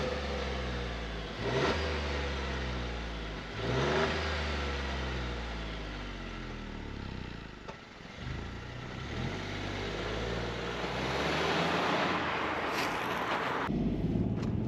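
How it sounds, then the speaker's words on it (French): A Citroën C3 Aircross's small turbocharged 110-horsepower three-cylinder engine hums steadily while driving, with a few rising revs as it accelerates through the gears, close and continuous. "on est sur un petit 3 cylindres de 110 chevaux suralimenté"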